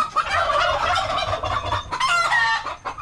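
A turkey on a poultry farm gobbles loudly in repeated bursts, with other fowl calling around it in a close, busy barnyard chorus.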